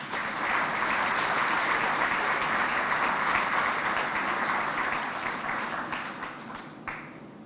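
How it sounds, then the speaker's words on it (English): Sustained applause from an audience at a police award ceremony honoring officers with commendations, steady dense clapping across the room that gradually thins and fades toward the end. "Give your applause, please"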